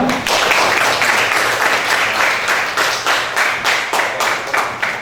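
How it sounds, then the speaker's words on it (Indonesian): Loud, sustained applause from a classroom group for group 4 at a practice-teaching lesson, a dense, steady wash of many hands clapping together with no talk. "tepuk tangan yang meriah untuk kelompok 4"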